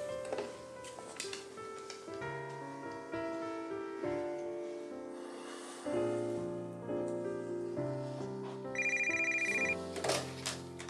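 A telephone rings with a repeated electronic ringtone melody, clear and steady, over a soundtrack of music in a dramatic indoor scene as someone waits for a call from the bank.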